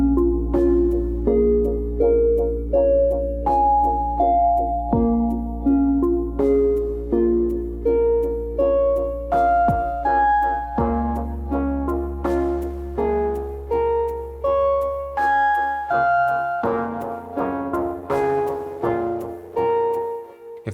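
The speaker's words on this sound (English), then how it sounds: "we are going to make some music with some of the more in-depth features of Teenage Engineering's OPXY" A Teenage Engineering OP-XY synthesizer plays a melodic electronic piece of plucky synth notes over a sustained bass, rising in busy, layered phrases, loud and close with no voices.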